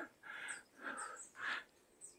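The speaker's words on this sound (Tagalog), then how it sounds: "meron mga ibon sa background na" Several short bird calls ring out one after another at a distance in a pine forest on Mt. Pulag, soft and spaced evenly against a quiet outdoor backdrop.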